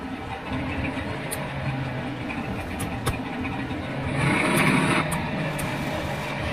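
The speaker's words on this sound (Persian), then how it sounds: "ماشین داره کم کم آزاد میشه" Car engine revving while the vehicle is stuck, a steady mid-pitched engine drone that swells louder for a second or two midway, with a few sharp clicks and knocks scattered through it.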